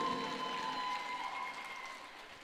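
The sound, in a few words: applause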